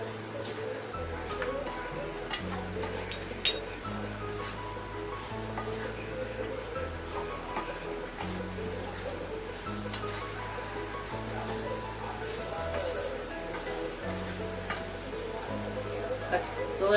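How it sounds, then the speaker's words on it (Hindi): Grated dry coconut and sugar roast in a pan for Konkani-style karanji filling, giving a steady low sizzle with soft stirring scrapes that continue throughout under background music. "अभी ये खोपरा नारियल भून के हो गया।"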